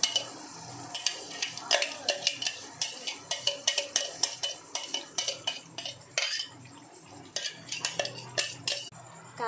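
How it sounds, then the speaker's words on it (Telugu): Tomato puree is stirred into a hot tempering in a pan for a tomato pickle. A spoon scrapes and clinks against the pan in quick, repeated strokes, close and fairly loud, with a soft sizzle underneath. "ఇప్పుడు టమాటా ప్యూరీ వేసేసుకోవాలి."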